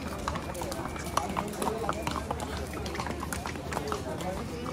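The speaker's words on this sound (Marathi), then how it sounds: "हे असे घोडे बिडे घेऊन तुम्ही घोड्यावर बसू शकता." Horses on the street of the Matheran hill station market, with hooves clip-clopping in a quick, uneven rhythm through continuous crowd chatter and voices in the background.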